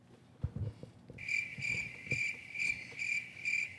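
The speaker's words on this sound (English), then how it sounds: "Got to put the crickets up." Cricket chirping sound effect dropped into a comedy podcast: a steady, rhythmic chirping pulse starts about a second in and repeats evenly over a low murmur of room noise.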